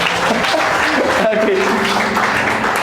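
Church congregation applause and clapping fill the space, steady and fairly loud, with voices and some cheering mixed in.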